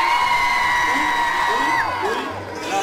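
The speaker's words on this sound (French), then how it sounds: "la foule est en délire" A crowd at the Paris Games Week gaming expo whoops and yells, with a long sustained shout ringing out over the noisy hall before fading, loud and close.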